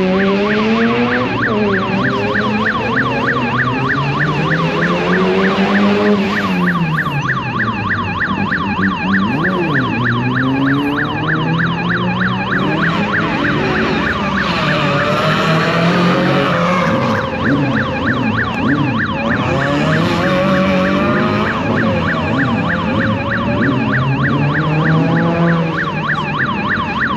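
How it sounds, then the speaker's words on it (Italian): Electronic burglar alarm of an eyeglasses shop in an industrial zone, a steady rapid warbling wail going on throughout, heard alongside loud racing car engines sweeping up and down in pitch as cars pass. "l'antifurto del negozio di occhiali è scattato di nuovo"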